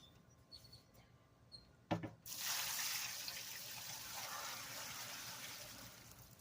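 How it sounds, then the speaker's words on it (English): After a few faint clicks and a brief thump, liquid pours steadily into a container of acid holding gold scrap, a constant rushing splash that carries on to the end, moderately loud and close, with no talk. "we're going to pour this in now"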